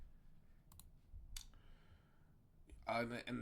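A couple of sharp, quick computer mouse clicks, then a louder click a moment later, with a brief murmur of speech rising at the end.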